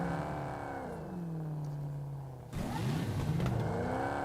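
A car in the PUBG Mobile game pulls away, its engine whining steadily and then surging louder as it accelerates, close and without talk.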